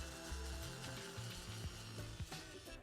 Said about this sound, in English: I'm going to switch to a fine sanding head so I can better get in those corners here.